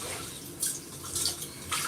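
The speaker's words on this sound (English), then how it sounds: "I'm gonna pour the last water, and you guys are gonna see" Dirty rice-washing water is poured out in short splashing bursts, three distinct gushes close by over a quiet background.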